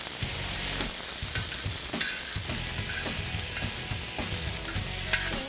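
Onions and peppers frying in olive oil on a FireDisc grill, a loud continuous sizzle with rhythmic scraping and stirring taps of a utensil close by.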